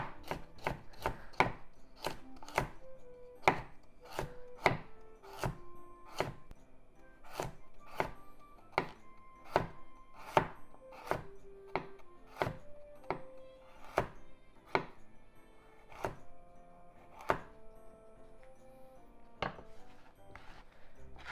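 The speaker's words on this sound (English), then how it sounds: "When it becomes small like this, put it face down, then keep slicing." A knife slices a carrot on a cutting board with sharp, evenly spaced chops that run in steady bursts with short pauses, close and clear, and no one speaks.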